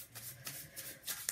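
Quick riffling bursts of small tarot cards being shuffled, several soft flutters in a row, close and quiet.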